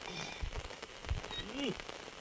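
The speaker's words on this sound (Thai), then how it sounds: "วันนี้ฝนตกซะแล้ว" Heavy night rain falls steadily during a fishing trip, with scattered drops and taps, while a voice murmurs faintly beneath it.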